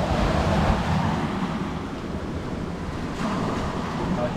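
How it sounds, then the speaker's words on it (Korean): Strong waves crash in a steady, roaring wash, with rain and gusty wind noise blended into a dense hiss, during a heavy rainstorm on the coast at Cebu. "파도가 세고 비도 오고 하는데"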